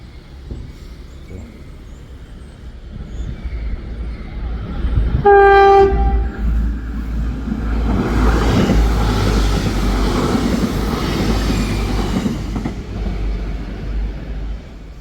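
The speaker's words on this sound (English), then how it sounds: "Oh, another train coming." A train sounds a loud two-tone horn, then rumbles past close by at the Lurgan Station level crossing in Craigavon, with a steady clatter of wheels building and holding for several seconds.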